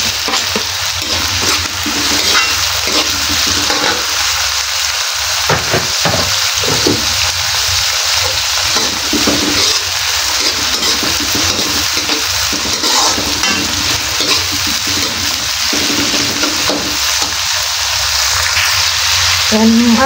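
Tomatoes frying in a hot pan with a steady, loud sizzle while a utensil stirs and scrapes through them in repeated bursts, continuing throughout.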